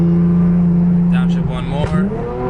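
Infiniti Q60 fitted with Q50 paddle shifters, its engine holding a steady tone, then blipping up briefly during a downshift, heard close with someone talking over it.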